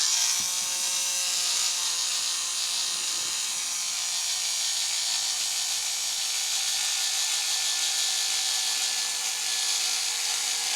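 A slow, weakening cordless screw gun with a dying battery drives long screws, giving a steady, thin whirring whine that runs on unbroken for about ten seconds, close by, with no talk.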